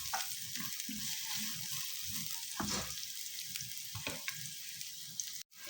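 Ginger, garlic and onion sizzle and crackle in hot cooking oil for Filipino ginataang manok, a continuous close frying hiss broken by a few clanks and scrapes of stirring.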